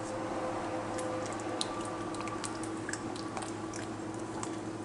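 Crawfish tails are stirred into a pot of corn chowder, giving soft, wet squelching and scattered small clicks over a continuous low bubbling bed. The sound is close and moderately quiet, with no talk.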